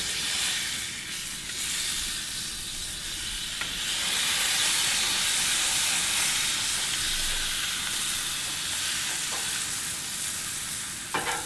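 A smash burger patty with onions, salt and pepper sizzling loudly on a gas grill, a broad steady hiss that swells midway, with a couple of faint taps of a spatula and no speech.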